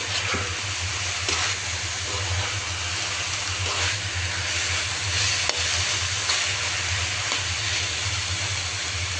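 Mixed leafy greens, six or seven kinds of home-garden greens, frying in a pan with a steady, dense sizzle throughout and occasional stirring scrapes, close and fairly loud with no talking.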